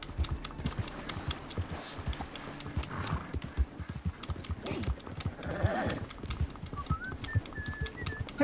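A horse gallops in the video game Red Dead Redemption 2, steady drumming hoofbeats running throughout with rustling ambience, and a thin whistled tune creeps in near the end.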